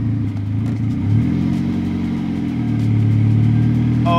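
A DF Goblin kit car with a suspected clutch leak pulling away, its engine droning loud and close, the pitch rising and dipping through gear changes, with no talking.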